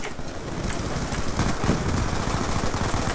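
Rapid gunfire in the shooter game Call of Duty: Black Ops 2, a dense, loud, continuous rattle of shots with heavy low rumble throughout, no talking.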